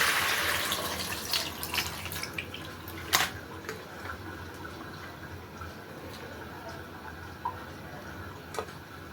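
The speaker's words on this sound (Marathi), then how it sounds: "आता आपण त्याला गाळून घेऊया आणि परत दुसऱ्या पाण्यात धुवून घेऊया" Grated potato being rinsed and strained in water in a kitchen, faint sloshing and dripping with scattered light clicks and taps from utensils, close and quiet with no talking.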